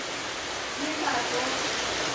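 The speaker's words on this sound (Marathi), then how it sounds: "हे बघा मस्तपैकी सो पाऊस पडायला लागलो बाहेर" Steady hiss of rain falling outdoors, broad and even, with a brief murmur of a voice beneath it.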